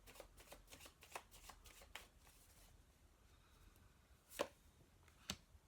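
Tarot cards being handled and shuffled, soft riffling flutters and taps with a few sharper snaps near the end, faint and close in a quiet room.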